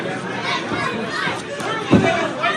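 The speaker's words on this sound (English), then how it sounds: "You can hear the crowd." Crowd chatter and murmuring from spectators at a professional wrestling match, a busy babble close by with occasional louder voices rising through.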